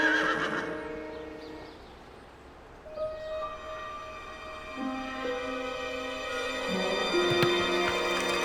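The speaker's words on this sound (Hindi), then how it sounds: "मेरे मोबाइल का रिंगटोन है सर" A mobile phone plays a horse-neigh ringtone: a loud whinny, then clip-clop hooves and train-like rumbling with sustained tones, ringing alone with no talk.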